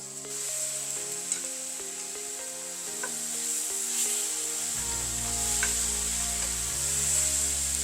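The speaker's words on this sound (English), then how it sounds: "we're just going to cook these for about 3 to 4 minutes. Until it's browned" Steak browning in a hot pan for a beef and broccoli stir fry, giving a steady close sizzle with light scraping and stirring, plus a low hum entering partway through, with no talking.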